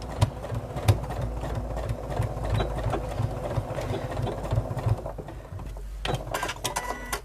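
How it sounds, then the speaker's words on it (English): An Elna Excellence 720 Pro sewing machine stitches a quarter-inch seam on a zipped bag, a steady close mechanical whirr with a fast rhythmic needle pulse that runs almost without a break, dropping briefly near the end. "I'm just going to sew that using 1/4 inch seam allowance"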